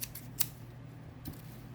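A pair of scissors gets a couple of crisp snips, each a short sharp metallic cut, close and fairly quiet, with no talk.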